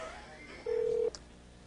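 A single telephone dialing tone sounds once, short and clear, over quiet room noise as a call is placed to a hair care company's hotline.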